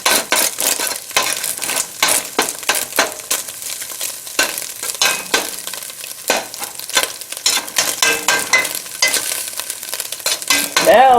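Garlic sizzles crisply in garlic-infused olive oil in a pan, a steady bright crackle broken by repeated scraping stirs, close and fairly loud.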